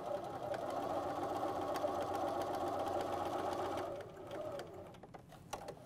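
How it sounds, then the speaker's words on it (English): Sewing machine top stitching bias tape along the edge of a fabric potholder, a steady close mechanical whirr for about four seconds, then stopping, leaving soft handling clicks and rustles. "I'm going to top stitch down the edge of the bias tape"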